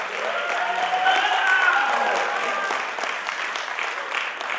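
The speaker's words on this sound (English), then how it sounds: "round of applause for Real Media." Audience applause at the closing plenary of a conference gathering, a steady, moderately loud patter of clapping from a seated crowd, with some voices faintly audible beneath it.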